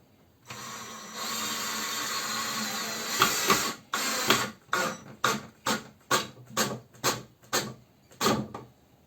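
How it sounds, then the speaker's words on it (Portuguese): A power drill drives a screw into wood while a wooden spice niche is built. A steady whirring run comes first, then a string of short, evenly spaced motor bursts as the screw is tightened, close and fairly loud. "Vamos colocar o segundo parafuso."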